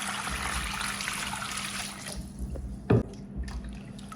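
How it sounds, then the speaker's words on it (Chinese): Clean water is poured over a piece of lean pork hind leg in a kitchen, a splashing trickle that fades after about two seconds into scattered drips and one sharp knock. Close and fairly quiet, with no talking. "然后加入清水"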